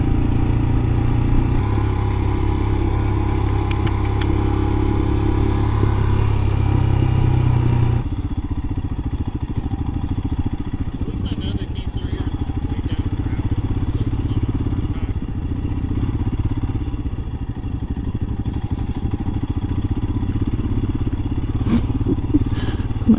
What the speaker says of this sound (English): I do love that the bike just putzes along like a little tractor.